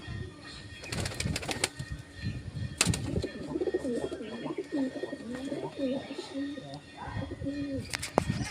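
Pigeons coo softly and repeatedly nearby, with a few sharp clatters and a voice speaking briefly in the background.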